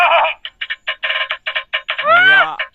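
Loud electronic chirps from a bird-scaring device guarding farm crops pulse in a quick, uneven rhythm, then a warbling siren-like sweep rises and falls before the bursts resume.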